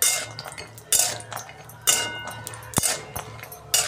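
Cashews stirred in ghee in a kadhai as they brown, with metal spoon clinks and scrapes against the pan coming in bursts about once a second over a soft sizzle.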